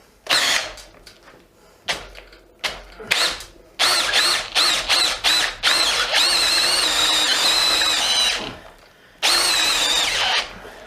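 Bosch GSB 18V cordless drill whirring in loud short bursts that cut off abruptly as the bit jams and stalls, followed by a longer strained run and a final burst, heard up close.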